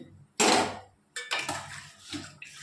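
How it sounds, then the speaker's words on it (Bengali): Raw potatoes, chandramukhi variety, tipped into a pot of half-cooked frying chicken for a simple Bengali curry, landing with a loud sizzling splash followed by a few clattering stirs and softer sizzles. "এবার আমি এর মধ্যে আলুগুলোকে দিয়ে দেবো।"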